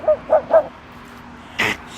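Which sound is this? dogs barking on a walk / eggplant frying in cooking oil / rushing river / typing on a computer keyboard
dogs barking on a walk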